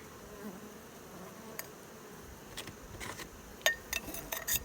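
Soft, steady buzzing from honeybees fills the background during varroa mite sugar roll monitoring, with a few sharp clinks of a glass jar near the end.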